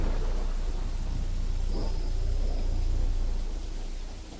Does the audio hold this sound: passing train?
no